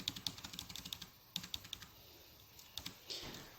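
Someone typing a server name on a computer keyboard, quick soft clusters of key clicks with short pauses, close and faint.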